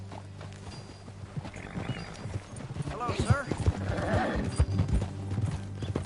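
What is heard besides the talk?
horse hooves clip-clopping in video game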